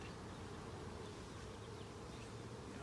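Dense, steady buzzing of a crowd of honey bees covering a hive frame during an inspection, close by, continuous and unbroken with no voices.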